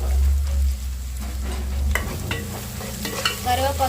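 Oil and curry leaves sizzle loudly in a pan for mutton curry, a steady close frying hiss with a deep rumble beneath and occasional stirring scrapes, no voices.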